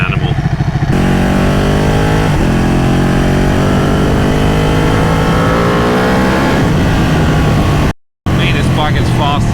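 A Ducati Panigale 1199 S engine revs hard and close, its pitch climbing and falling through rising sweeps and downshifts before cutting out briefly near the end and then resuming.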